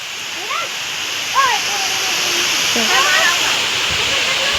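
Steady broadband rush of running water fills the clip, with a few bird calls rising over it.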